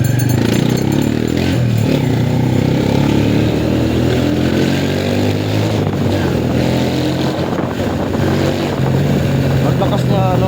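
A gasoline motorcycle engine running and revving up close. It drones loud and continuously, with a rough, uneven tone and rising revs that fill the whole stretch.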